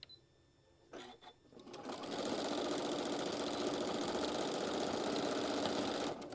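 A sewing machine stitches across a fabric puff pouch, a few short taps first and then a loud, continuous whirring run of stitching close up that cuts off at the end.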